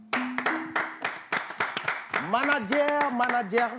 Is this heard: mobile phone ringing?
no